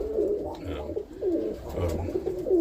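Roller pigeons coo repeatedly in low, throaty, rolling phrases, fairly close, with soft background noise between calls.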